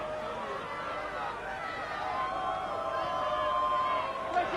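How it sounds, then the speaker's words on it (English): Crowd at a rugby league varsity match between Oxford and Cambridge at Richmond, a sustained chanting and singing roar from the stands, moderately distant and steady throughout. "The crowd in fine voice here at Richmond."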